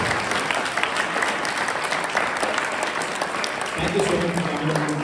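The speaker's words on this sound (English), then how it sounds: "we can all loudly applaud for this wonderful presentation" Sustained, loud applause from an audience of students and teachers at a school children's festival after a presentation, continuous crowd clapping with voices faintly mixed in near the end.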